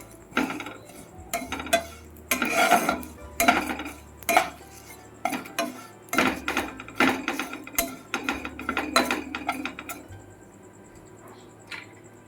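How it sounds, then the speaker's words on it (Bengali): Vermicelli with bay leaf and whole cardamom being stirred in a frying pan for sweet vermicelli pudding, with repeated close metallic scrapes and clinks of the utensil against the pan over a low frying hiss, no talking. "একটু নাড়বো। একটু লাল লাল করে ভাজতে হবে সিমুইটাতে।"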